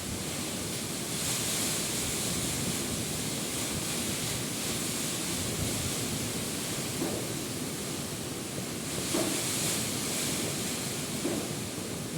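Strong typhoon wind and storm during Typhoon Kristine, a continuous heavy roar of wind and rain with surging gusts, steady and broadband, no voices heard.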